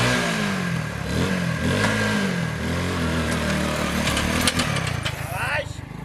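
A motorcycle engine runs and revs with a rough, pulsing drone that rises and falls over a few seconds, up close, as people talk over it.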